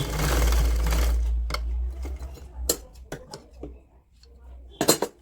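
A sewing machine stitches elastic on a woolen pajama for a two-year-old in one loud, steady burst, followed by scattered clicks and light handling taps.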